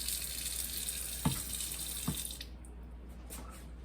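Kitchen tap water runs steadily into a sink while rinsing during cookie baking, with a couple of sharp knocks before the flow cuts off and leaves faint drips.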